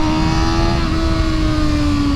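A 2020 Kawasaki ZX6R motorcycle engine drones loud and steady close by, its strong tonal hum sliding slightly in pitch as it pulls through a quick-shifted change from first to second gear.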